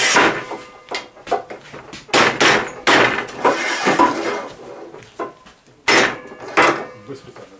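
A Rubi manual tile cutter scoring and snapping 10 mm textured tile, giving sharp clacks and scraping bursts at close range, with people talking between the hits.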